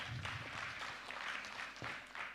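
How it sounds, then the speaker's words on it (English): A conference audience at a Ugandan water utilities regulators' event claps in a continuous, fairly faint wash of applause throughout the short stretch. "A big round of applause."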